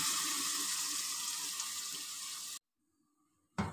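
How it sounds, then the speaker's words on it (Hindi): Water runs into a cooking pot for rice in a steady, bright splashing stream for a few seconds, then stops suddenly, followed by near silence and a brief final burst of pouring. "इसमें आप थोड़ा सा पहले पानी डाल दें"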